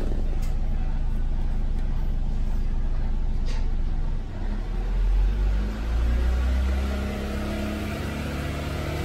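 A car engine with an overcharging alternator idles with a low rumble, then is revved, swelling into a deeper, louder surge midway before settling back down.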